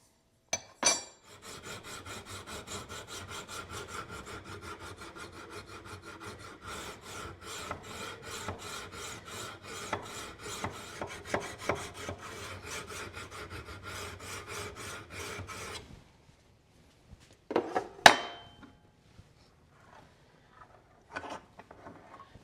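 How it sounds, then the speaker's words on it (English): A rusted Bowie knife scrapes back and forth on a sharpening stone in a fast, steady rasping rhythm for about fifteen seconds, followed by a few short, separate strokes and clinks. "I'm going to take it over here on the sharpening stone and detune it a little bit there"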